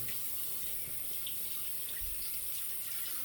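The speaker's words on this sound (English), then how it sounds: "Just gonna rinse these with hot water" Hot tap water runs steadily into a sink as parts of a slant safety razor are rinsed, a continuous close hiss with faint splashes and no talking.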